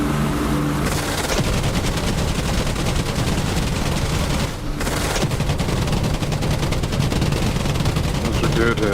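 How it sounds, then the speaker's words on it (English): Machine gun firing nonstop in the DCS flight simulator video game, a stuck trigger keeping it going, a loud dense rattle across the whole span with only a brief break midway. "my trigger is stuck on. I've still got some bullets left, but for some reason it didn't stop firing"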